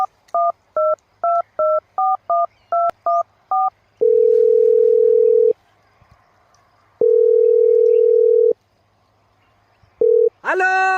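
A phone call is placed: a quick series of beeping keypad tones is followed by long, steady ringing tones with pauses between them, close and clear.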